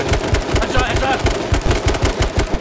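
Rapid, evenly spaced gunshots ring out in the video game H1Z1, a steady automatic-sounding rhythm of loud cracks lasting a couple of seconds with faint voice chat behind.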